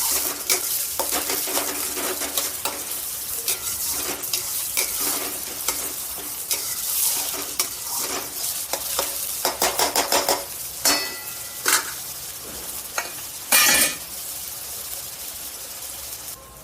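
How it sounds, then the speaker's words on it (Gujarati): Onions sauté in a pan with a continuous close sizzle and frequent spoon scrapes and clinks against the metal as they are stirred, no voices. "ડુંગળી, સતળાઈ જાય એટલે થોડી પિંક બ્રાઉન જેવું થઈ જાય પછી ટામેટા નાખીશું."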